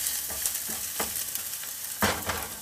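Onions saute in a pan over slightly below high heat, a steady close sizzle and crackle with a few scraping stirs, no talking.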